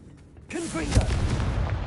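A Confringo blasting spell goes off in a magic video game: a brief spoken voice, then a sudden muffled low burst that fades into a rumbling tail.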